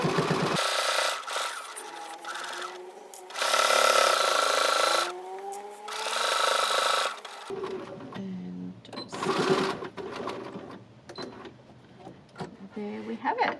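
A sewing machine stitches a facing onto a leather satchel in several loud, whirring bursts, separated by pauses filled with rustling and handling of the material.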